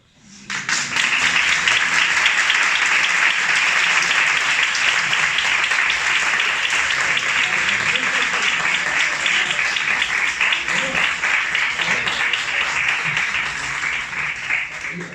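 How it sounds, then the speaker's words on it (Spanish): Audience of students at a secondary school theatre talk bursting into long, loud applause that swells quickly and holds as continuous dense clapping for about fifteen seconds before easing slightly. "Bueno, se merece un buen aplauso."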